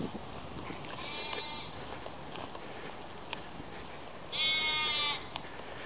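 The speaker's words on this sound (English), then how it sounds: "Sheep and goats mostly." Sheep and goats in paddocks near a beekeeping site outside Leeds bleat twice, a few seconds apart, moderately distant over quiet outdoor background noise.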